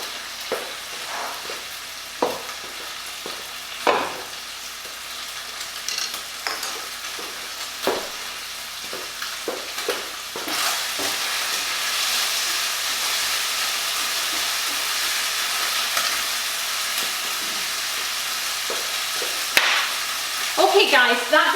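Lardons go into a hot pan and sizzle with a steady, rising hiss, punctuated by scattered clinks and stirring knocks of a utensil, close and clear.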